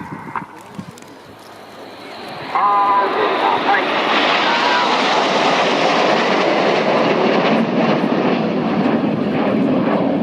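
Nine Red Arrows jets fly the Diamond 9 formation at RIAT 2017, a loud broadband roar that rises abruptly and holds steady, with a commentator heard faintly at the start.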